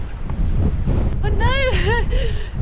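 Wind gusts roar steadily across an exposed, unsheltered hillside on a Seven Sisters cliff walk, buffeting the microphone with loud low rumble throughout while someone talks over it.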